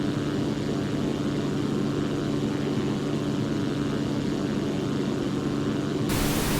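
Steady, droning propeller engine of a Zlin Z-142 light aircraft in a flight simulator, lined up on approach to an airfield, a loud continuous hum and buzz with no talking.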